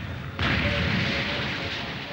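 Cartoon ship cannons fire a single sudden heavy boom, followed by a sustained roaring rumble that fills the rest of the moment, loud and close with no voices.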